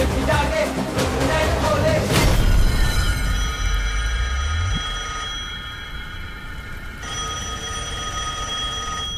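Telephone ringing in a dramatic film scene: a sustained bright bell-like ring holds steady for several seconds after a loud deep swell of music and effects fades out.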